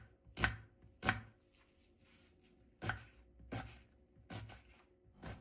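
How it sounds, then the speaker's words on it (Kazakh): A knife chops an onion into small squares on a board for a pumpkin soup, giving about seven sharp, close cutting strikes in an uneven rhythm with quiet pauses between them. "пиязымызды кішкене 4 бұрышты етіп турап аламыз"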